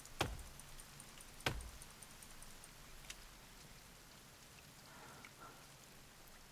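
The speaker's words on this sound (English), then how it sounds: "Oh no, we've got a storm incoming. We've got rain." Storm rain falling in the survival game The Forest, a soft steady hiss at low level with two sharp knock-like transients near the start and faint scattered ticks, no voices.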